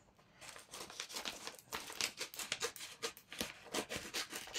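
Paper crinkles and tears as a large folded envelope is opened by hand, a close run of crisp rustles and ripping bursts at steady moderate loudness.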